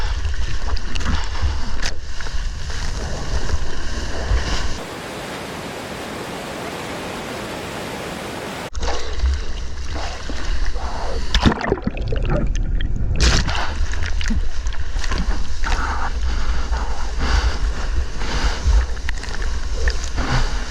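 Ocean surf breaking at a surf spot during a rare summer offshore wind, a continuous broadband wash of waves with heavier surges, steady and fairly loud, briefly interrupted by a quieter hiss before the roar returns.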